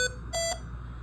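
A simulator alarm gives two short electronic beeps, a brief tone followed by a longer, slightly lower one, loud and clear over a low hum.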